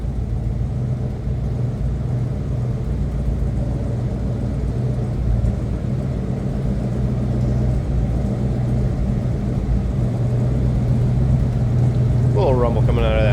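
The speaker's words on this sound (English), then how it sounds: "Rumble coming out of that 302, nothing crazy." A Ford 302 V8 in a 1978 F-150 idles with a steady, low, throaty rumble that carries on evenly throughout, with a voice entering briefly near the end.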